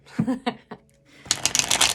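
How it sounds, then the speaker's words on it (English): A deck of tarot cards is shuffled close up, the crisp riffling coming in a quick burst of flutters after a few words of talk. "we're going to give the cards a shuffle"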